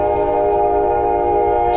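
A train passes nearby with a loud, steady droning rumble and a sustained horn-like tonal hum that holds throughout, dense and continuous.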